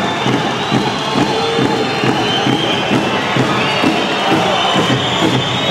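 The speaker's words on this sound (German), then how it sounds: "Der Schweriner Trainer jubelt es schon, die Schweriner Mannschaft jubelt es schon" Players and coach of the Schweriner SC women's volleyball team cheer loudly in a packed arena during a Bundesliga quarterfinal playoff, with a dense, steady crowd roar and excited shouts throughout.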